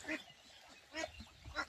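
Ducks quack in a paddy field on a duck farm, three short close bursts of calls spaced a fraction of a second apart, fairly faint overall.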